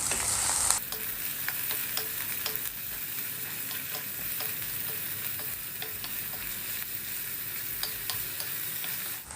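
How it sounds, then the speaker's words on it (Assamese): Ginger-garlic paste for matar paneer sizzles steadily in a hot pan while a utensil scrapes and stirs now and then, close and moderately loud, with no talking. "এতিয়া এইখিনি কিছু সময় ভাজি ল'ম।"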